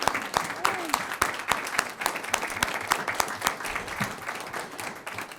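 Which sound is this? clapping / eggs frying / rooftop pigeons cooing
clapping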